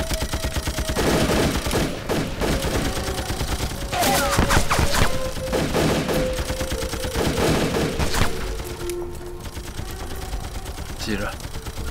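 Rapid bursts of gunfire and a fusillade in a Chinese anti-Japanese war film battle scene, loud and repeated over about eight seconds, with shouting voices and music between volleys before the shooting fades.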